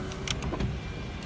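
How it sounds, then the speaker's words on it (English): Car power window motor whirring briefly as the glass moves, close and fairly clear, on a used car with 170,000 miles, rust and peeling paint. "It's got power windows."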